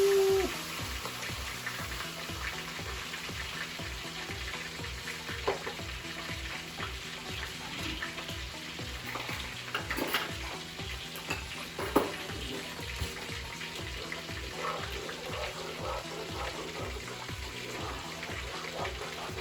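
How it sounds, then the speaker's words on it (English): Pureed tomato frying in a hot frying pan, a steady close sizzle and crackle with faint stirring scrapes throughout. "I got a frying pan hot in there. I pureed some tomato."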